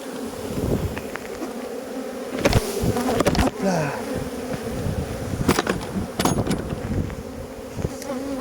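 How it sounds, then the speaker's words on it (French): A steady swarm of honeybees hums close by around hives during a white heather honey harvest, with sharp knocks and clatter breaking in now and then, and a brief spoken word. "vous voyez les abeilles là qui sont par terre, elles vont retrouver leur ruche"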